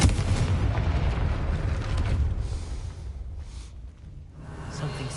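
The Confringo fire spell explodes in the video game Hogwarts Legacy, a loud, booming burst with heavy low rumble right at the start that rolls on and slowly fades over several seconds.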